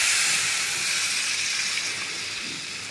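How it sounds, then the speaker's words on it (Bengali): Water poured into a hot pan of fried red lentils sets off a loud, steady hiss of steam that slowly eases over a few seconds, with no talking. "এতিয়া মই পানী দি দিম"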